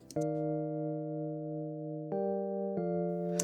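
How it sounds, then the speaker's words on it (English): Sustained Rhodes electric piano chords from duplicated MIDI ring out cleanly in a chill pop beat, one long held chord followed by two shorter changes, bright and close with no voices. "So I brought in a Rhodes, and I basically just duplicated the MIDI over on down"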